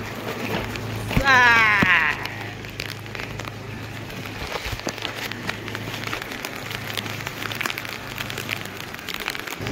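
Rain patters and crackles steadily around people walking outdoors in raincoats on the way to a market, a close, even hiss with scattered sharper taps, and voices talk at moments.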